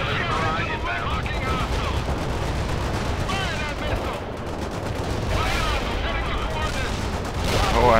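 Artillery barrage in World in Conflict, a continuous heavy rumble of shell impacts and explosions rolling on for several seconds, loud and dense throughout with a final swell at the end.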